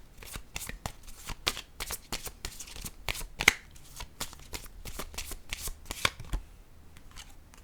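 Tarot cards riffle and slap together in a steady, repeated shuffle, close up and crisp, with no voices over it.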